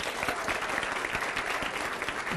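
A studio audience at a televised political debate on the 2024 elections claps in a steady, moderately loud round of applause with distinct individual claps within the crowd sound.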